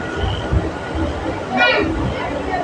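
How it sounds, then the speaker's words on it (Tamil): A CSMT superfast passenger train runs along with a steady rumbling roar and a brief squealing screech midway, heard from close by with faint crowd noise. "ஏங்க ட்ரெயின் மட்டும் போயிட்டே இருக்குங்க"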